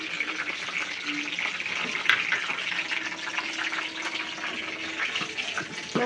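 Water drained off soaked fish being poured away in a kitchen, a continuous close splashing trickle with running-water hiss, fairly quiet and steady throughout.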